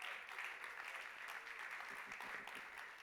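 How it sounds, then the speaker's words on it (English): Conference audience applauding after a keynote by Steve Carless, head of Warner Records, at the Island Music Conference 2024; a continuous, moderately faint wash of many hands clapping throughout. "Another round of applause for Steve Carless."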